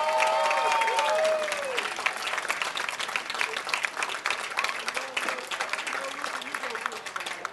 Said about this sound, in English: Let's have one more round of applause for our Clarke Central Baseball seniors.